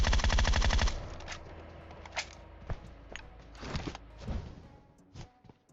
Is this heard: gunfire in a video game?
yes